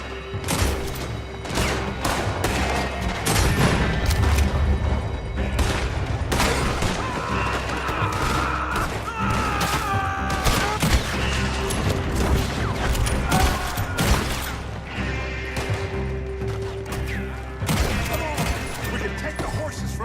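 A heavy shootout in the Western game Red Dead Redemption 2, with dense, rapid volleys of rifle and pistol shots cracking nonstop over the whole stretch, layered with thuds and shouting.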